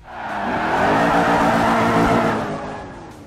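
Race car engine in the racing game Forza Motorsport 4, a loud continuous revving roar that swells in and fades out over a few seconds, with a hint of tire squeal.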